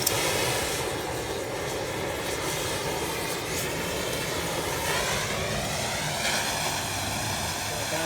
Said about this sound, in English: I have an oxyacetylene torch.